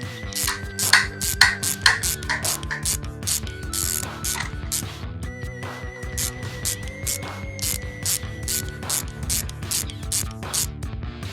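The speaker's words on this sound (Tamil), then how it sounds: "நம்ம இந்த ஹேண்டில் வர 2 ஸ்க்ரூவையுமே கழட்டியாச்சு" A screwdriver loosens the screws in a hair dryer handle during a repair, giving a steady run of close, crisp ratcheting clicks with a faint mechanical hum underneath and no talking.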